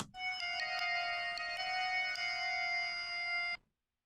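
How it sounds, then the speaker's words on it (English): A bright, bell-like synth chord rings out with sustained shimmering tones and a few soft accented hits, then cuts off abruptly near the end. "piano bell sound that's adding some like openness"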